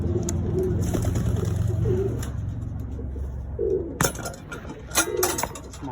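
Pigeons coo in a new loft, low soft repeated calls rising and falling at close range, with occasional clinks and rustling of birds moving about.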